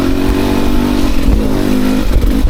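A one-year-old 2024 Beta 300 RR Race Edition dirt bike running steadily while ridden, its engine a continuous loud drone with slight rises in pitch and a few clattering knocks, close to the rider with no talk over it.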